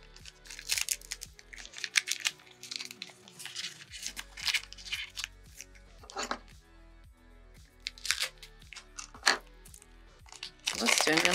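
Sharp crackling and crinkling of a Pokemon 151 card pack's foil wrapper being cut open by hand, close up, in several bursts with rustling between them, while a person talks over it.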